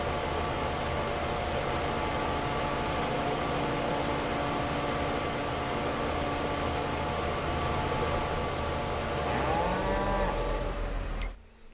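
Cattle on a Farming Simulator 22 farm moo in long, drawn-out calls over a constant drone of game ambience, with no talking.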